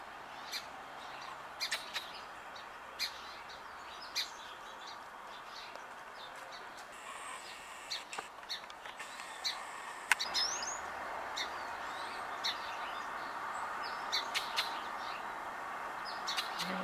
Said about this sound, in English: We have a song sparrow on the ground going to the food